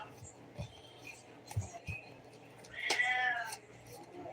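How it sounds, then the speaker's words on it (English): A pet cat meows loudly indoors at night, a few short cries followed by one longer, drawn-out wail, fairly close and alone without talk. "I can't quite have my cat screaming for all the neighbors to hear"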